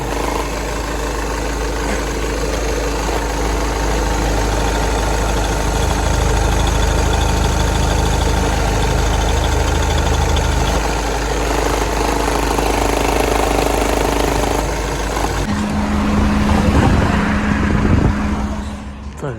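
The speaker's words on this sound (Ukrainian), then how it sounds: "двигун працює ідеально, рівненько" The 2.0 TDI diesel engine of a 2010 Volkswagen Touran idles steadily and loudly nearby, a continuous rumbling clatter that stays even throughout.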